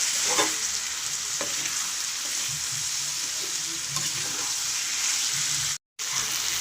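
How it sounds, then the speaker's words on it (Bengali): Boiled green jackfruit pieces stir-fried with spices in a pan, a steady bright sizzle with repeated scraping stirs throughout and a brief dropout near the end. "এগুলো দিয়ে মশলাগুলোর সঙ্গে ভালো করে মিশিয়ে আমি আস্তে আস্তে কষাবো।"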